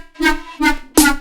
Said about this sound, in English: Okay, I'm going to turn the comb filter on.